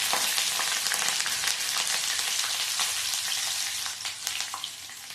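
Mustard seeds and finely chopped green chillies hit very hot oil for a traditional Konkani poha tempering, giving a loud, steady hiss of frying with faint crackles and pops throughout.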